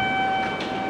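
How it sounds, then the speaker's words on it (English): JR limited express train at Kurume station, a steady rumble of rolling stock with tonal whine from the platform, fairly close. "This is an express train, limited express they call it here, I guess."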